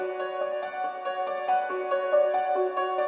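Two layered melodies from an FL Studio beat, a piano counter line beneath a main melody, play together in a steady rhythm of repeating notes, close and even in level with no voices.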